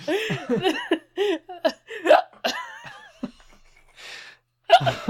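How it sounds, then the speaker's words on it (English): Sharp, abrupt hiccups from a podcast host recording close to the microphone, several coming in uneven succession and mixed with laughter, chuckles and short bits of talk. "Oh no, it's not a hiccup fit, is it? It is."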